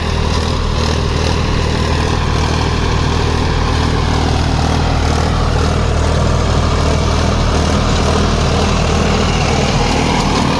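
Tractor ploughing a hard, unworked seedbed field, with a steady loud engine drone and broadband rumble running continuously close by, no talk.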